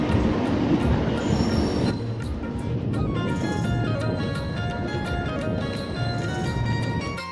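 A train passes Bhiwandi Road station on the Mumbai to Konkan route, heard as a loud, steady rumble of rolling railcars with clattering wheels and occasional metallic squeals throughout, with no voices.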